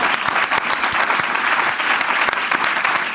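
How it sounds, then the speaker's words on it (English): An audience at a symposium on human health and climate change gives the panelists a round of applause, thick continuous clapping that fills the room without a break. "please give a round of applause to our panelists"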